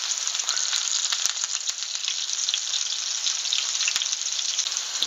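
Apple slices seasoned with nutmeg fry in oil in a pan, a steady close sizzle with fine crackling pops and no voices.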